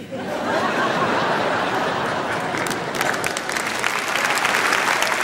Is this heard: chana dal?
no